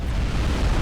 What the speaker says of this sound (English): they're technically killed by the explosion from his fusion reaction rather than a nuke